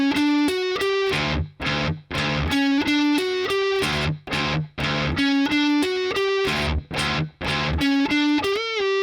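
Distorted electric guitar plays a riff, with chugging open-string notes in repeating bursts and short gaps, loud and alone.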